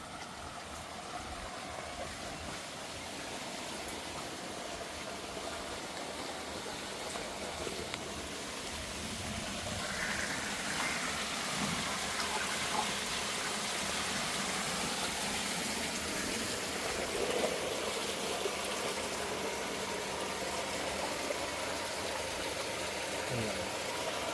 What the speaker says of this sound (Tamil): போர்லேருந்து தண்ணி போகுது